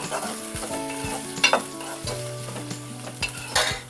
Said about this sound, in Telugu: ఇలా చీల్చుకొని పెట్టుకున్న ఫోర్ పచ్చిమిర్చి కూడా వేస్తున్నాను వీటిని మంచిగా కలుపుకున్నాం